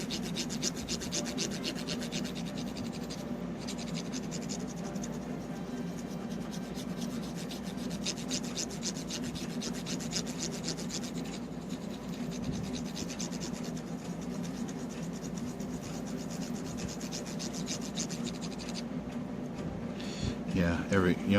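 Close rubbing and rasping scrub as grime is cleaned off a 1989 Nintendo NES game cartridge, Astyanax, a steady continuous friction under someone talking, with a few louder strokes near the end.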